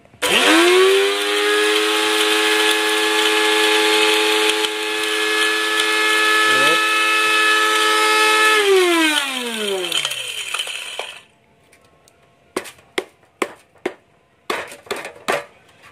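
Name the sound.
grinding scrap electronics in a grinder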